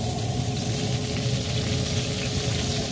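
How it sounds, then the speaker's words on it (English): Water sprayed onto a Peking duck browning in a Weber SmokeFire smoker, a constant loud hissing spray with a low rumbling hum underneath, with no talk. "Let's spray some water."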